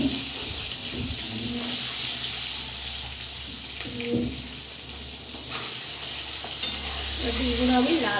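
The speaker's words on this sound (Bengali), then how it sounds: "ডিমগুলো আমি লাল করে একটু ভেজে নেব।" Salted eggs frying in a pan until browned, a continuous loud sizzle with faint stirring scrapes and small clinks throughout.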